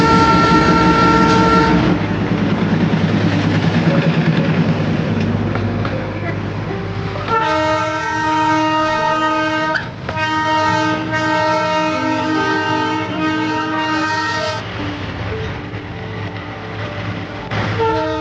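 The Darjeeling toy train, a narrow-gauge hill railway, rumbles along on its joy ride loop through Ghum and back. Loud horn toots ring out over steady wheel and carriage noise.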